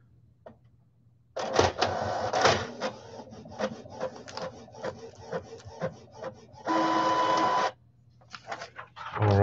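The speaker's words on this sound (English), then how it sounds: "Hear my printer sound like it's gonna die." A home printer runs and strains as though about to fail, giving a busy stretch of mechanical clattering, rubbing and whirring bursts with a steady grinding passage near the end, loud and close with no talking.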